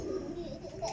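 A Sialkoti pigeon coos in a short, low, soft burble that lasts about a second, close by, with faint background noise around it.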